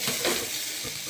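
Okra roasting in a pan over a low gas flame in a home kitchen, a soft, steady sizzle with faint stirring scrapes, close and unbroken by talk.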